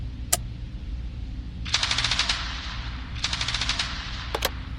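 Two rapid bursts of automatic gunfire crack out at a shooting range, with a single sharp shot before them and another pair of quick shots at the end, loud and close.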